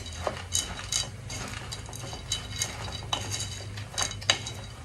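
Green beans being mixed in a pan, with repeated clinks and scrapes of a utensil against the cookware at an irregular pace, close by over a low steady hum.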